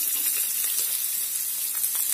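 Chopped onion frying in hot oil in a pan with roasted dal, giving a steady, close, bright sizzle and hiss that holds evenly throughout, with no voices.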